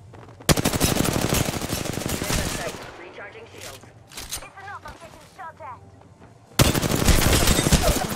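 Rapid automatic gunfire from the Apex Legends video game, loud dense bursts at the start and again at the end with quieter gaps between them and voices talking in the middle.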